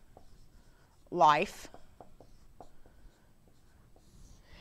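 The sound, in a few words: writing by hand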